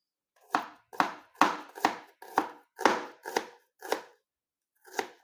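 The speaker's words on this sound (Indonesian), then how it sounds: "Ini bawang merahnya saya iris." A knife slices through shallots on a cutting board in about nine crisp, evenly spaced chops with brief pauses between them, heard up close with no talking.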